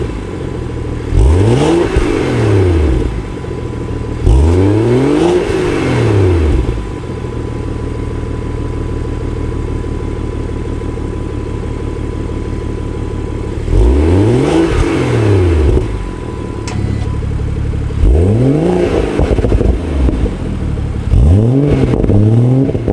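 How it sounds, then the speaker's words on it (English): A BMW 340i (F30) engine with a Remus axle-back sport exhaust revs sharply several times from idle with valves closed, each rev rising and falling with a throaty, loud exhaust, separated by steady idling. "So let's give it some revs."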